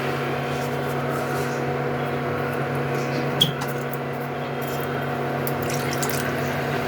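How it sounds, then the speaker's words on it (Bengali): About a kilo of water poured into a pot of Bengali fish head curry, a steady, continuous pouring rush heard close and alone, with a single brief clink partway through. "জলটা সব দিয়ে দিলাম, 1 কেজি জল একদম দিয়ে"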